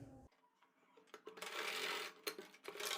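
A sewing machine stitches a quarter-inch seam along a blouse lining, a short quiet start, then a sustained close whir broken by a couple of brief clicks.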